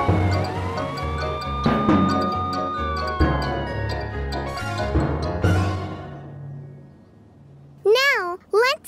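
A cartoon police car siren in a kids' animated show wails in long rising and falling sweeps, loud and close, under music and effects, ending with short chirpy siren-like warbles.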